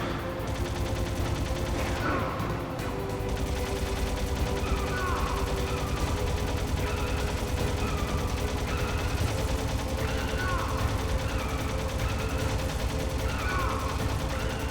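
Dense, loud gunfire and mechanical clatter from a Metal Gear Solid firefight runs without pause under the game's steady background noise, with a player talking over it at times.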